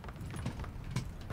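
Footsteps in PUBG Battlegrounds from a player moving inside a building, a quick run of soft repeated steps close by.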